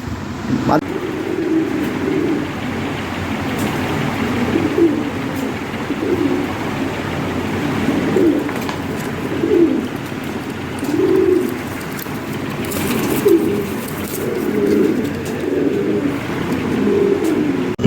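Lahori pigeons coo in a repeated, throaty rolling pattern, several birds close by and steady throughout, with faint background noise and no talk.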